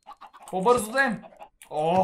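Chickens cluck in the video game Minecraft: a few short, close, nasal clucks in quick bursts, mixed with someone talking briefly.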